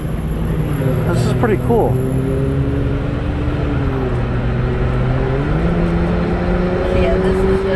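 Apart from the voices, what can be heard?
race cars passing at the Indianapolis 500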